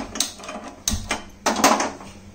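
A pan is set down on a gas stove, giving a few sharp, close metallic knocks and clatters spaced apart, with a low hum between them.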